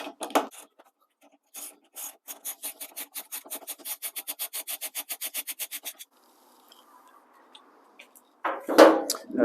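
A 17mm socket wrench ratchets a wiper arm nut loose on a Honda Civic Type R FN2: a fast, even run of dry rasping clicks, close and alone, then a pause before a louder scrape at the end.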